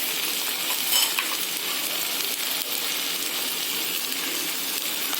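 Curry leaves and tomato frying in a pan for moong dal khichdi, a dense continuous sizzle with faint crackles, close and even throughout, no voices.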